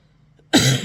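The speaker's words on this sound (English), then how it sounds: "I know I have a bit of a cold and I have a bit of a cough" A person with a cold gives one sudden, close, rough cough with a brief throat-clearing rasp after near silence.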